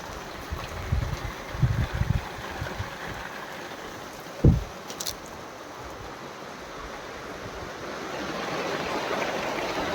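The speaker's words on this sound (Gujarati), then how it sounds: "ફૂલ જોરથી વરસાદ આવી ગયો ભારે મોસમ।" Heavy rain pouring outdoors in a village, a broad steady wash of rain noise with a few low thumps early on and a louder swell toward the end.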